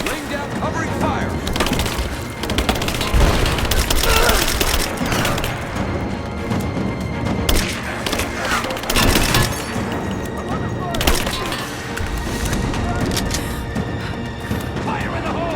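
Gunfire in Rise of the Tomb Raider: rapid, loud bursts of shots and impacts crackle continuously for the whole stretch, with shouting voices and a busy battle mix underneath.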